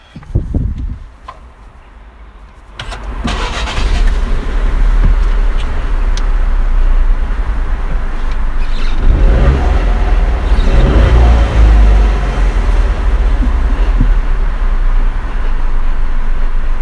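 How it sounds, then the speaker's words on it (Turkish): A Fiat Egea 1.0 Lounge engine cranks and starts after a few seconds of quiet handling noises, then settles into a steady, moderately loud idle hum that continues to the end. "Bir çalıştıralım, motor sesini bir dinletelim size."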